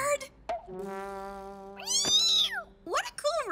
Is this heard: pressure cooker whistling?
no